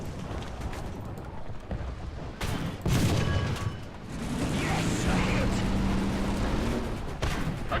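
Gunfire and cannon shots from a Churchill Mk I tank battle in War Thunder ring out, with several bursts and booms over a rumbling engine and battle ambience, and a voice speaks briefly.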